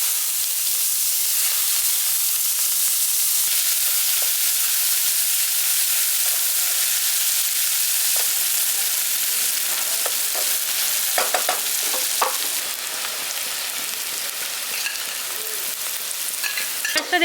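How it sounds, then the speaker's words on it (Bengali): Chopped onions fry in hot oil with bay leaf and whole garam masala, a steady close hiss of sizzling broken by brief clatters of stirring toward the end, with no voices. "পেঁয়াজটা দেখুন আমি লালচে করে এখানে ভেজে নিয়েছি।"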